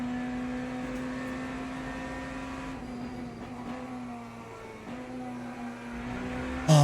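Race car engine in the Le Mans Ultimate sim with the hypercar tyre update, a steady sustained drone with smooth pitch shifts through corners, loud and continuous with no talk.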